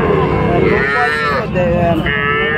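Cattle lowing at a busy rural cattle market in Panchbibi, Bangladesh, where young heifer calves are sold, with several drawn-out moos close by over a continuous crowd murmur.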